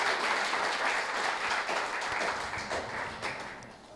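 Steady applause from a church congregation during a sermon, a dense wash of clapping that holds fairly even for a few seconds, then slowly thins out.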